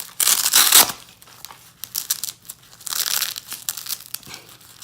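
Plastic packaging of an ASO ankle stabilizer crinkles and tears in close bursts, with a loud rustle at the start and softer intermittent crackling after.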